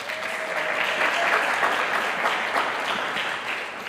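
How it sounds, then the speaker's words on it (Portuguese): An audience claps together at a church vigil in Salvador, a dense, steady burst of applause that holds at an even level for several seconds with no talking over it. "Uma salva de palmas, uma salva de palmas."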